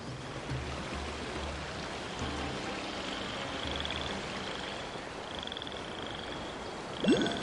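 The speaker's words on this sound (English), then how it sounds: "Like the frog sounds are so peaceful." Frogs croak in the game Genshin Impact, a soft rhythmic chorus of low pulses repeating over a steady background of water-like ambience, with a faint tonal chime at times and no talking.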